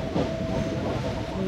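A KRL commuter train in Jakarta rumbles steadily with a hissing, clattering roll, heard from on board or nearby, with no voices.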